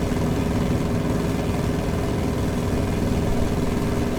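A J-3 Piper Cub's engine in Microsoft Flight Simulator drones steadily and loudly, a constant low, dense rumble with no pauses or talking.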